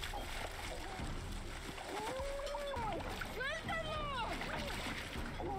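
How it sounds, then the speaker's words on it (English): A splash as a head is dunked into water in a Breaking Bad backyard scene, set among mixed background sounds and voices. "He's gonna dunk his head in the water."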